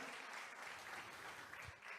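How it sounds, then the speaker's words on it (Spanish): Applause from a church congregation during a Spanish-language service, a steady, dense wash of clapping filling the whole stretch at moderate distance, with faint voices underneath. "Fuertes aplausos a nuestro Dios en esta tarde"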